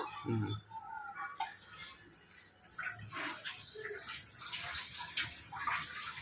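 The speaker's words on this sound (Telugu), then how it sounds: "ఇప్పుడు గోంగూర కడిగేస్తాను" Gongura (sorrel) leaves being washed in water in a home kitchen, with soft splashing, swishing and dripping sounds, quiet and intermittent, heard close up.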